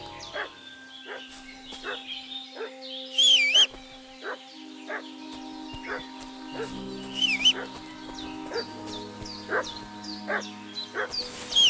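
A dog barking in the medieval village world of the video game Kingdom Come: Deliverance II, repeated short yaps at moderate distance over a soft ambient bed with bird calls and a faint rooster.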